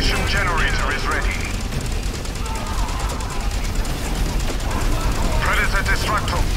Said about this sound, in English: Targeting beacon deployed. Commencing fire.